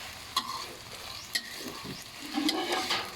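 Rice noodles stir-fried for pad see ew, a soft continuous sizzle broken by a few sharp spatula clanks against the pan, fairly quiet with no talking.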